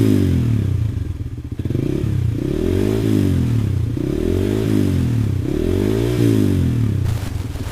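A nearby motorcycle engine revs up and down several times in rising and falling swells, with rough, rumbling clatter between blips.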